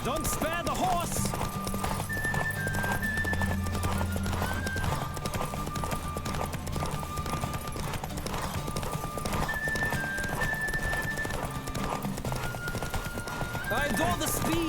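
Racing horse in a Witcher video game, hooves pounding in a quick continuous gallop near at hand, backed by music and occasional shouted voices.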